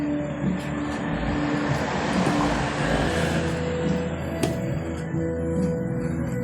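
A refrigerator compressor starting up and running steadily after being converted from R600a to R134a refrigerant, a continuous close hum with broadband mechanical noise and a few faint clicks, no talking.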